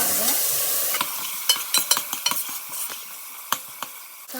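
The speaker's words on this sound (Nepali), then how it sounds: "अघि काटेर राखेको गोलभेडा हाल्ने अनि यसलाई राम्ररी चलाएर" A utensil stirs freshly chopped tomatoes into a frying chana dal masala, sharp scraping clinks against the pan repeating irregularly over a low sizzle, close and alone without voices.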